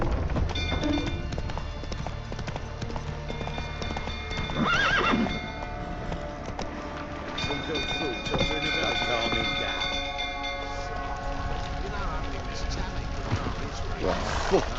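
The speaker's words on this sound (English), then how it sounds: "Giddy up. That's it, Roach." A horse gallops in The Witcher 3 video game, with steady hoofbeats and a whinny during a castle fire scene, while game characters talk over the clatter and background music.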